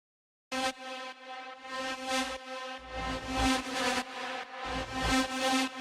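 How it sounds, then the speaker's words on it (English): Swelling reversed drum hits with smeared reverb tails rise and cut off in a repeating rhythmic pattern, layered over a sustained tonal pad. "I did reverse reverbs of these sounds"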